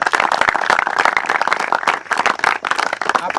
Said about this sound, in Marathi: त्यांच्यासाठी सर्वांनी एकदा जोरदार टाळ्या वाजवायच्या